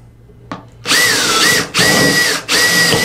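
A power drill whines loudly in three sustained bursts with short pauses between, biting through thin sheet metal close by, preceded by a brief click.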